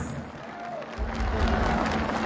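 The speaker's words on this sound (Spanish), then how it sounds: "¡Fuerte las palmas!" A crowd at an outdoor horse contest in San Pedro de Cajas claps and cheers. The sound rises after a second into a loud, steady wash of applause and voices, heard from a distance.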